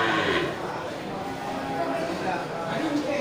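Aceh cattle low faintly amid a busy outdoor crowd, with people talking nearby and general livestock noise in the background.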